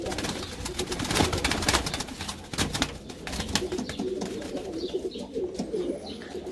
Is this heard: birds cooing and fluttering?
yes